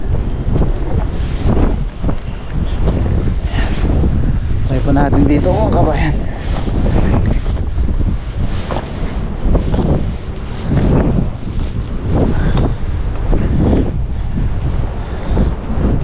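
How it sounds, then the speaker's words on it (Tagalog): Strong wind roars and buffets the microphone in loud, gusting waves, with someone talking over the rush at times. "grabe, sobrang lakas ng hangin."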